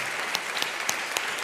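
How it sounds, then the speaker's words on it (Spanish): A seated audience at a cultural event applauds a comic book author with brisk, continuous clapping, a short burst at moderate level with a few sharper claps standing out. "Pues Fran, te damos un aplauso muy agradecido por esta ventana que nos has abierto."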